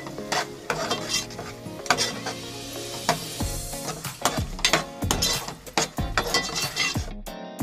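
A spoon stirs and scrapes through food in a frying pan, with continuous sizzling and frequent metallic clinks and knocks against the pan, loud and close with no talking.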